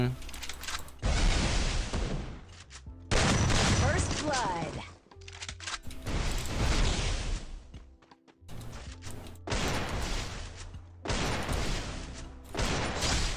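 Gunfire in the mobile shooter Free Fire during a one-on-one custom match, loud bursts and crashing shots in several separate blocks, with people talking over it.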